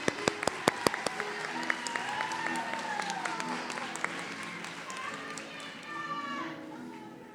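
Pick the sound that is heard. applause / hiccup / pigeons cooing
applause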